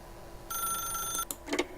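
An old-fashioned telephone bell rings in The Stanley Parable, one clear trilling burst followed by a brief clatter, fairly quiet and alone.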